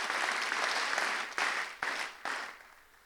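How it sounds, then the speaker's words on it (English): An audience at a couples' evening event applauds a woman who has just stood up, a dense burst of clapping that breaks off and restarts in a few short surges before fading. "Give Jill a big round of applause."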